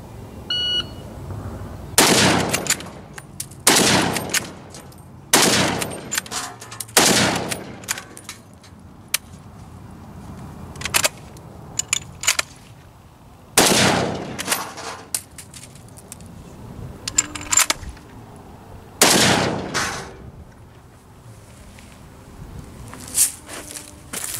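Handgun shooting drill with magazine reloads: loud close gunshots in quick pairs and singles, broken by pauses with metallic clicks and handling noises, then more shots.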